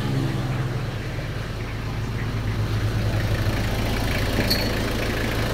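A Toyota Revo engine idles steadily with a low, even hum and a faint mechanical whir from the running AC compressor alongside, close and unchanging.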